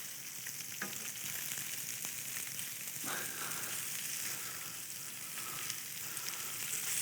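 Atlantic salmon kebabs fry in a pan and are turned with a spatula, giving a steady, faint hiss of sizzling oil with a few soft scrapes and taps from the spatula.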